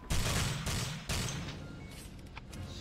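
Gunfire and bullet impacts in the shooter game Alpha Prime, with loud rapid bursts of shots and a brief pause between volleys, then quieter trailing cracks.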